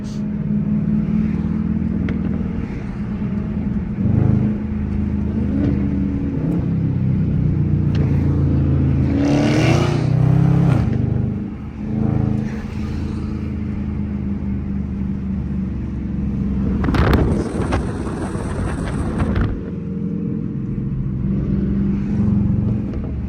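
Dodge Charger RT driving alongside a widebody Hellcat through city streets, a loud continuous engine rumble with repeated revving surges and a burst of acceleration near the end, close and steady throughout.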